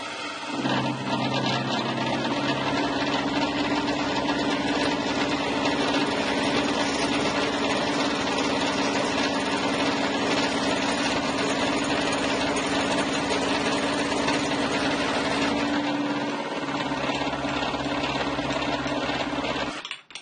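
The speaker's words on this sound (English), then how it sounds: "I'm just shaving a bit off the circumference of this thing." A milling machine shaves metal off the circumference of a circular part held in a vise, a loud continuous motor drone and cutting whine that holds steady, then shifts pitch near the end.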